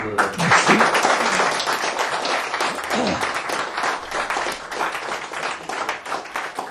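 Audience applause bursts out in a hall after a talk on Charles Maurras, interrupting the speaker with dense, sustained clapping that stays loud for several seconds before easing slightly.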